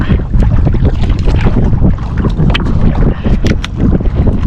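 Strong wind buffets a shoreline, roaring and gusting hard against the microphone in a dense, continuous rush with no talk.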